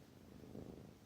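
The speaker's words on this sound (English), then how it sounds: "Happy and purring now?" Soft, steady purring from a cat close by, a continuous low rumble with no other sounds.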